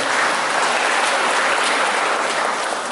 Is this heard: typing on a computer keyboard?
no